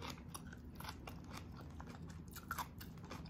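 Carrots from a spicy beef oxtail adobo crunched between the teeth in quick, soft, closely spaced bites, near and fairly quiet with no talking.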